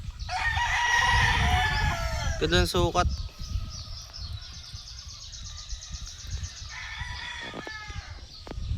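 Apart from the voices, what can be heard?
Gilmore-cross gamecock rooster crowing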